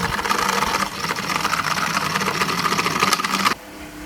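A small mini washing machine for makeup brushes and beauty sponges runs with a steady, buzzing motor whir, close and fairly loud, then cuts off abruptly near the end.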